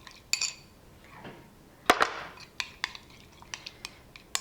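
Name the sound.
quick mixing of lamb chop marinade in a bowl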